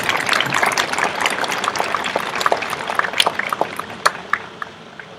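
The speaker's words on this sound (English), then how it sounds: "Let's give our speakers another big round of applause." Sustained applause from an audience at an eighth grade commencement ceremony, a dense crackle of many hands clapping that swells and lingers throughout, fairly loud and steady.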